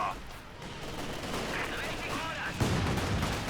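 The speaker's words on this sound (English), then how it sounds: "so a lot of shots into the house" Gunfire in a WWII strategy video game as shots hit a house, a dense burst of rapid shots and crackling impacts, loud and continuous with a sharper thump near the end, under commentary talk.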